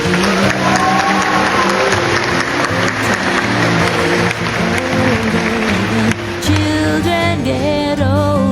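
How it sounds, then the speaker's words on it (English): An audience at a graduation ceremony gives the graduates a round of applause, loud and continuous, with cheering voices and music-like tones rising above the clapping toward the end. "Graduates, I ask that we have another round of applause for them."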